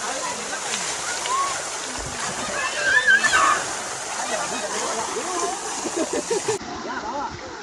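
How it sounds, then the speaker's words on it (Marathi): A waterfall at a cool Konkan tourist spot, its steady rushing and splashing water filling the background while people talk over it. "आणि हा धबधबा पण आहे वॉटरफॉल"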